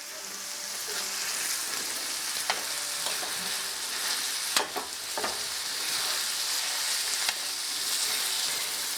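Beef and pork sautéing in a pan over a raised flame for red chile, a steady close sizzle with occasional sharp pops and light stirring scrapes, no speech.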